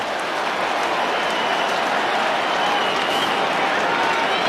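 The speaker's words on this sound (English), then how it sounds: "Big cheer for Jack" A crowd at an Australian football match cheers for a player named Jack, a broad, sustained roar of voices and clapping from a large stadium audience, steady and distant-sounding throughout.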